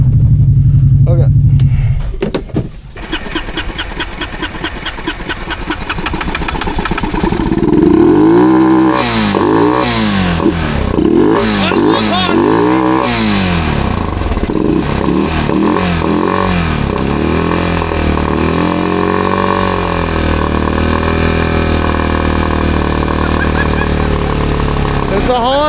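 Honda ATV engine cranks and catches, then revs hard and unevenly in deep mud on a Thanksgiving trail ride, loud and close with rising and falling throttle pulls, people talking around it.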